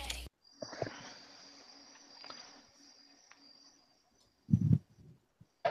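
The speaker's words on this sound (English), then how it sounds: "Did we literally hear crickets?" A steady high-pitched insect trill, like crickets, runs continuously in the background, with a few brief bumps and a short burst of voice near the end.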